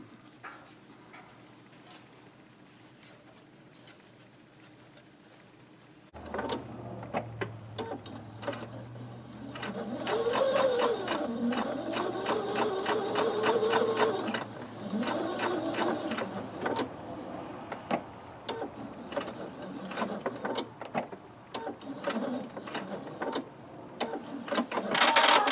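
Domestic sewing machine stitching fabric for a quilt block with brief backstitching: after a few seconds of quiet, a rapid rattling needle run starts up close and loud, with short stops and restarts as the stitch direction changes.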